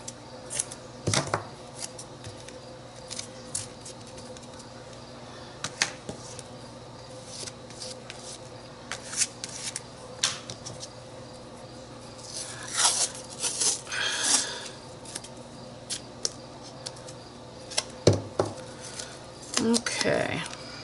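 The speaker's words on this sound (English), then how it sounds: "And let's use some more of this tape." Tape is handled for a textured craft project, with scattered crinkles, rips and light clattering taps, some quick clusters and some isolated, close and moderately quiet over a faint background hum.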